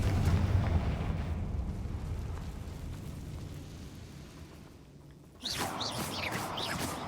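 A Confringo blasting spell explodes in a Harry Potter video game, a rumbling blast that decays over several seconds, followed by a sudden bright crackle of debris.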